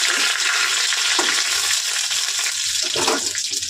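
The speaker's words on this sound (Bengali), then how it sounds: "রসুনটা একটু নেড়ে চেড়ে" Chopped garlic with dried red chillies fries loudly in hot oil for a hog plum dal, a dense continuous sizzle with stirring scrapes and no talking.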